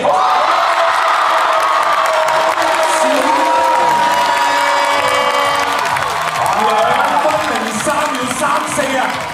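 A large crowd at a basketball all-star game cheers, whoops and applauds continuously, loud and close, with shouts rising throughout.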